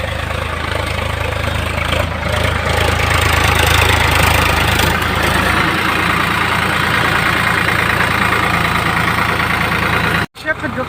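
A tractor engine runs steadily at close range on a farm field during ploughing, a loud continuous low rumble with a slight knocking throb that drops out abruptly near the end.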